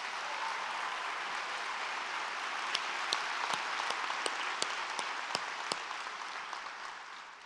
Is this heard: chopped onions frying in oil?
no